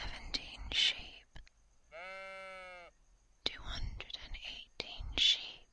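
Soft, close whispering with sharp breathy sibilants gives way to one clear, drawn-out baa imitating a sheep, then the quiet whispering resumes.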